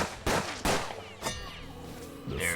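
A gunfire barrage in the game Hard West: several heavy shots in quick succession, each a sharp loud crack with a ringing tail, followed by a quieter rumble.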